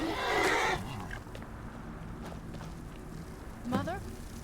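A horse in the video game Skyrim gives a loud, close whinny at the start, followed by a second shorter whinny near the end, with quieter game sounds in between.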